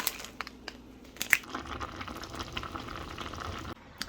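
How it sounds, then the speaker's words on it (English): Lunch cooking in a pan, a steady close sizzle and bubbling with small crackles and one sharp clink, running alone without talk before cutting off near the end. "So while my food is cooking"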